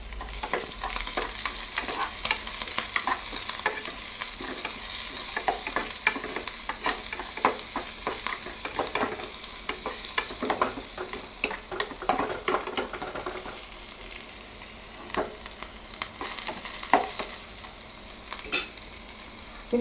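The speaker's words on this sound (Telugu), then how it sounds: "ఆవాలు వేగంగానే తరిగి పెట్టుకున్నటువంటి ఈ ఉల్లిపాయ ముక్కలు, పచ్చిమిరపకాయ ముక్కలను కూడా వేయడం జరిగింది" Mustard seeds, chopped onion and green chilli frying in a pan for leftover idli upma, a constant crackling sizzle over rapid repeated spatula stirs and taps, close and lively, easing slightly toward the end.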